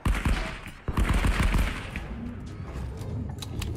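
A suppressed 9mm Uzi with a metal stock fires in the game Marauders, short rapid bursts of muffled shots up close, then fainter scattered shots and thumps.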